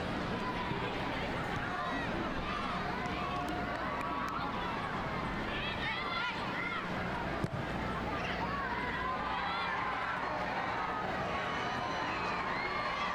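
Stadium crowd at a Japan vs Brazil women's soccer match, a broad, distant hubbub of spectators running continuously under a voice talking close by.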